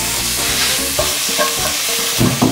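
Shallots hitting melted butter in a hot pan, a loud close sizzle that stays continuous, with a few knocks and scrapes of stirring near the end and no voices.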